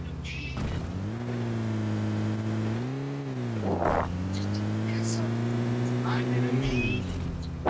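Vehicle driving in the video game BGMI, engine droning steadily with pitch rising and falling as it accelerates, with brief clicks and a short voice-like burst over it.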